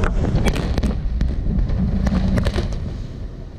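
Explosives blast the western quay wall of the Middensluis lock in Zeeland, giving a series of sharp cracks and pops over a loud, rumbling wind-buffeted roar that slowly fades, with no voices.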